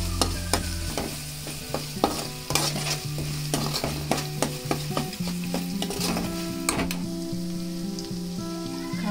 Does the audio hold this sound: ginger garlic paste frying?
yes